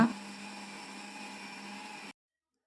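A kitchen mixer grinder whirs steadily for about two seconds, grinding tamarind with fried coriander seeds into a masala paste for Mangalore-style chicken urval, then cuts off abruptly into silence.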